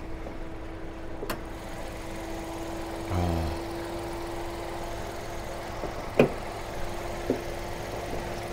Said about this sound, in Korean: 제가 엔진 소리 한번 들려드리고 하겠습니다.